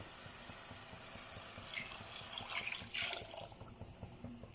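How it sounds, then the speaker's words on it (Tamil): Water poured into a pot of rice and lentils for South Indian ven pongal, a quiet steady trickle and splash that grows slightly fuller as the pot fills, with no talking. "நம்ம தண்ணி ஊற்றிக்கலாம்"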